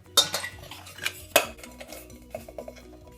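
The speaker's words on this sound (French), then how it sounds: "je vais d'abord monter le moule" Metal parts of a doll-shaped cake mould with a convection rod being fitted together, giving close sharp metallic clanks and clinks at irregular intervals, with two louder knocks and softer ticks between, no talking.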